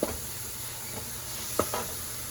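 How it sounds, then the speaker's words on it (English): Sugar frying in a skillet over low heat, with a faint steady sizzle and a couple of brief stirring scrapes and clicks, close and quiet. "fry your sugar in here"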